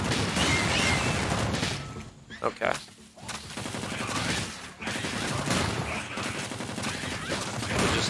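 Cannon and gun turrets fire nonstop in the video game ANVIL: Vault Breakers, a dense, loud barrage of rapid shots and blasts with a brief dip midway, and a voice speaks briefly over it.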